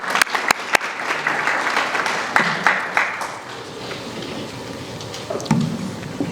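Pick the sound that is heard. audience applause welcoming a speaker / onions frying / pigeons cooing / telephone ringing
audience applause welcoming a speaker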